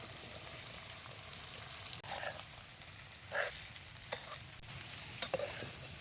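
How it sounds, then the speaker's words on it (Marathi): Sago tossed into hot oil with green chillies for village-style fasting khichdi, a steady low sizzle with occasional scraping stirs and light clinks close by. "आता मिरच्या तेलात चांगल्या भाजल्या आता त्यात शाबू घालतो."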